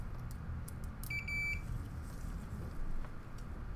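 A multimeter continuity tester gives a single short electronic beep while checking a charging-port circuit on a repair bench, heard once over low room hum.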